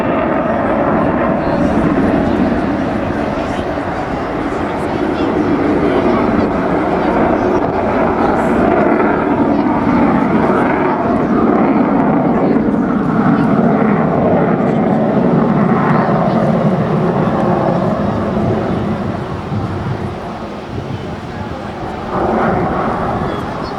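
A Saab J35 Draken jet fighter makes its final pass at a beach air show, a loud, sustained roar of jet engine that holds steady for the whole stretch before easing slightly near the end.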